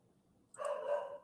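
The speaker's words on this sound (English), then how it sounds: "Why are the dogs barking?" A single short dog bark sounds faintly at a distance, a brief yelp-like call against a quiet background.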